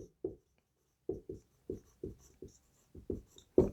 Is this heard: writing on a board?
yes